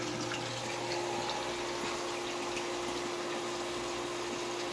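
A sump pump runs with a heavy flow of water entering it, producing a steady, continuous rush of water over a constant low motor hum, unbroken and fairly close.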